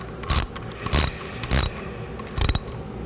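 A ratchet tightens a 13mm bolt on a Chevrolet Silverado 4L60E transmission, clicking in four short close bursts spaced about half a second apart.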